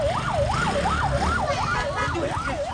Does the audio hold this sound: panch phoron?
no